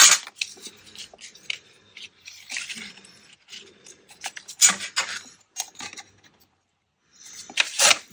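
Paper is torn by hand in a series of short, crisp rips with brief pauses between them, close and fairly loud, to make a small journal tag.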